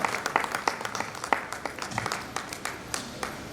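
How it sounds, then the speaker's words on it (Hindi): Sparse applause from an audience welcoming a speaker onto the stage at an awards event, a scattering of individual hand claps, fairly quiet and thin, with a faint murmur underneath. "कृपया जोरदार तालियां बजाकर मंच पर स्वागत कीजिए श्री A.N. सिंह जी का"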